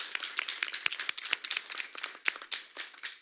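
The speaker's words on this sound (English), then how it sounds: "Round of applause." Small audience at a city council meeting giving a round of applause, scattered, fairly quiet claps from a few people at moderate distance.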